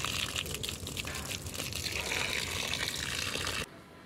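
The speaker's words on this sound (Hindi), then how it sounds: "अपने सारे पौधों को ऐसे पानी देंगे कि पानी वेस्ट भी ना हो और इन्हें पानी भी मिल जाए" Water poured over wilting potted plants on a rooftop gushes and trickles steadily for a few seconds at moderate level, then stops abruptly.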